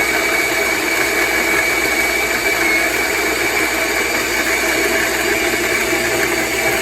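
A Tuni G1 conical burr espresso grinder grinds coffee with a loud, steady motor whine and buzzing hum, unbroken and close throughout.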